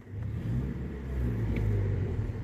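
A car engine revs steadily from close by for a couple of seconds, a loud, continuous low rumble with no voices over it.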